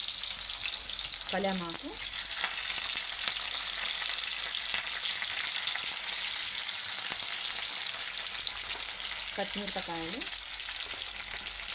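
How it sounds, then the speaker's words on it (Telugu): Onions frying in hot oil, a loud, continuous dense sizzle close up throughout, with a voice speaking briefly twice over it. "ఆయిల్ వేడైంది, ఉల్లిగడ్డలు వేసుకుంటున్నాం."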